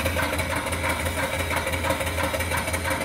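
A small steam engine runs on a rare return flue horizontal boiler fitted with a swift oiler, its exhaust going up the stack, giving a steady, continuous rhythmic chuffing with a low repeating pulse, close and even throughout.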